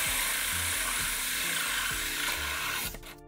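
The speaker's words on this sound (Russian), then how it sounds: "Сейчас досверну на маленькой скорости." A large diamond core bit, water-cooled, drills through a glass bottle at low speed, a loud steady high grinding whine with rhythmic scraping pulses, cutting off abruptly near the end.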